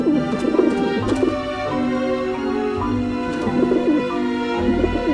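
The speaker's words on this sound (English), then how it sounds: "I don't like the looks of those pigeons." Pigeons coo in the video game Grim Fandango, with soft repeated throaty calls in rhythmic bursts over a steady tonal musical backdrop, fairly close and continuous, with no speech.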